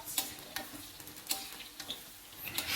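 Long eggplant frying in hot oil in a wok, a soft steady sizzle broken by a few sharp crackles and spoon taps, quiet and close, with no voices.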